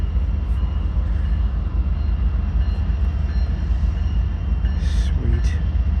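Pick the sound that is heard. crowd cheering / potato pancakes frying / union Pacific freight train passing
union Pacific freight train passing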